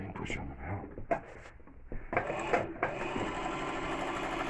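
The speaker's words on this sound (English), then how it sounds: "you put it down here, and then you start to sew." A sewing machine stitching heavier thread with a foot control: after some light handling clatter and speech, the motor spins up and settles into a steady, close whirring hum.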